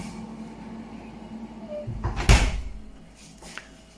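A Midea HC-689WEN side-by-side refrigerator-freezer door closes with a single soft thud and brief rattle, close and moderately loud over a low steady hum, followed by a faint click.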